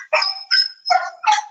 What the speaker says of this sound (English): please excuse my dog